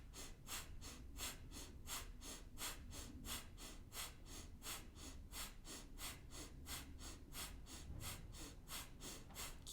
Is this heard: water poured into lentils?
no